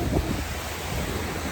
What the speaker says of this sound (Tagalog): Lakas lang hangin lang talaga.